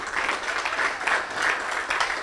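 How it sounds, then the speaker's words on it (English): An audience at a film fund presentation claps steadily for a guest, a dense and even wash of applause heard on its own without speech. "I ask for applause, please"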